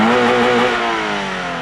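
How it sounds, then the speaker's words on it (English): Subaru BRZ tS boxer engine heard from outside the car, a loud close rev whose pitch falls steadily as the engine settles, with no talk. "You can rev it all the way out"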